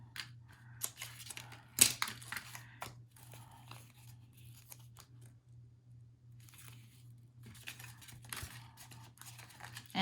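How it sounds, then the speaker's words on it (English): Teflon scissors snip through adhesive strips while an interactive craft album is assembled, giving scattered crisp cuts and crunches over a steady low hum, with no talking. "I like using the Teflon scissors when I cut adhesive and stuff because then nothing sticks to them."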